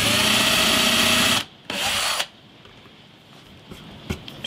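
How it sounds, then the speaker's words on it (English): A loud power drill whirs for over a second, drilling holes in a vintage parlour guitar's fretboard, then a short second burst, followed by quieter tapping and handling noises. "I've marked all the positions, so let's get drilling."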